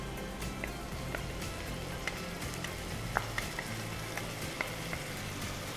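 Tomatoes dropped into frying onions in a pan for restaurant-style dal, giving a steady close sizzle with scattered pops and crackles over a low kitchen hum, no talk.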